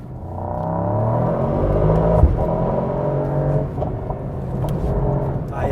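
A 2024 Mercedes-AMG GT Coupé in race mode with ESP off, its engine droning and building steadily from inside the cabin, a continuous rising rumble with slight surges and no pauses.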